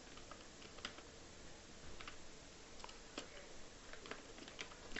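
Typing a comment into a web page's comment box on a computer keyboard, a steady run of quick, light key clicks with a few sharper taps, close by and alone over a soft background hiss.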